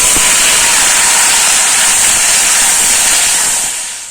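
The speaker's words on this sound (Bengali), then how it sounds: "এবার এই পর্যায়ে আগে থেকে সেদ্ধ করে রাখা কচুর গাঠি দিয়ে দিচ্ছি।" Boiled taro pieces hitting hot oil in a wok set off a loud, steady broadband sizzle that holds for about four seconds and then starts to fade, with no voices.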